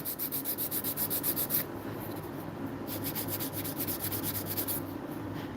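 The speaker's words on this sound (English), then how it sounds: "And then I'm going to start filing the surface of the nail." A nail file rubs across the surface of an acrylic nail in quick, rhythmic back-and-forth strokes, close and fairly soft, in two bursts of repeated scraping separated by a short lull.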